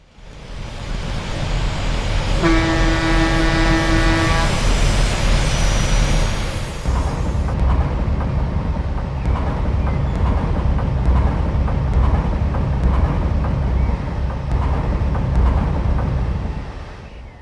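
A Union Pacific GT3 gas-turbine locomotive in Train Simulator runs with a loud, steady engine roar and a high turbine whine that drops away partway through, with a sustained horn blast near the start.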